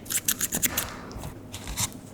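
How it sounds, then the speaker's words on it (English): Several crisp snipping sounds of scissors trimming the edges of pointe shoes, close and fairly quiet, a quick run of cuts followed by a pause and a couple more. "I'm going to grab my scissors again"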